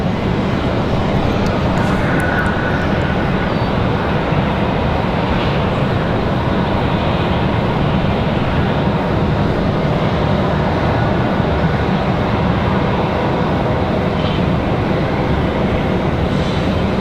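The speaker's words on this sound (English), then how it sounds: "There she is, American One World 777, arriving as a ferry flight tonight." An American Airlines Boeing 777 in Oneworld livery arrives at Raleigh-Durham on a night ferry flight, a loud continuous jet rumble and rush sustained throughout without speech.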